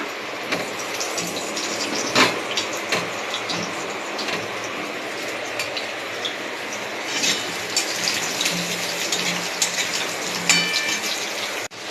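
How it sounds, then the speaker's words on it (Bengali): Potatoes fry in oil left from frying fish, a steady bubbling sizzle with scattered pops and crackles, moderately close and uninterrupted by speech. "এবার এই তেলের মধ্যে আমি আলুগুলোকেও ভালো করে ভেজে তুলে নেব।"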